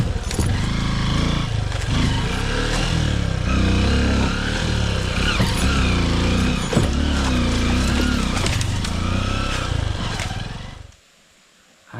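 A Honda XR 150 motorcycle engine drones steadily and loudly while riding off-road down a dirt track, its pitch rising and falling with the throttle before cutting off abruptly near the end.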